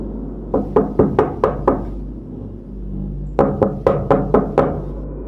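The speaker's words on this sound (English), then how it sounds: "Then, a knock." Two slow, heavy series of knocks on a door, five or six blows each, close and loud, with a short pause between the bursts and no talking.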